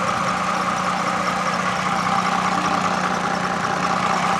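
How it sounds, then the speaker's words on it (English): A 2007 Toyota Camry XLE V6 engine idling with a squeaky serpentine belt, a steady, even mid-pitched hum and drone close up, with a faint continuous whine riding on top and no talking. "Here is the engine running here."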